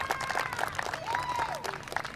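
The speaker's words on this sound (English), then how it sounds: "please give them a round of applause" Outdoor crowd applause and cheering at a Charlotte FC mini soccer pitch unveiling, moderately faint and distant, with a whistle-like tone sliding through the clapping.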